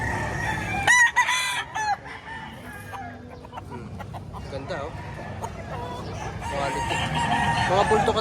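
Roosters at a livestock auction market in Padre Garcia crow repeatedly and cluck, loud and close, amid a busy crowd with someone talking over them.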